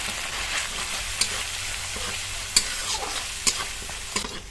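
Spice paste of black and white mustard, garlic cloves, salt, turmeric and chilli powder sizzling in hot oil over medium flame, stirred with a few sharp clinks of the spoon against the pan over a constant hiss.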